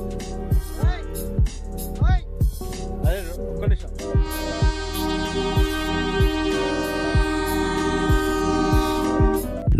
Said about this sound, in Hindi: ट्रेन लगातार वार्निंग देकर हॉर्न बजा रही थी